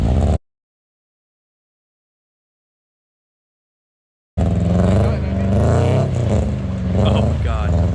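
A lowered car drives through mud with its engine loud and close and revving hard, after a long dead gap of silence, with people talking over it.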